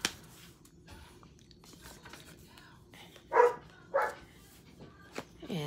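A house dog gives two short, muffled barks from indoors, faint and slightly distant, amid quiet room noise with soft movement around.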